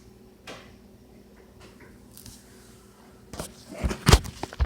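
A door shuts indoors with a couple of thuds and a rattle near the end. Quieter clicks and bumps come first, all close by, and no one talks over them.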